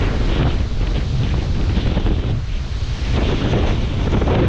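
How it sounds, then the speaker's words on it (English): Strong gale wind roars loud and continuous across an outdoor setting with a BMW E39 540i, buffeting the microphone throughout with steady gusty rumble and no pauses. "it's blowing a gale here"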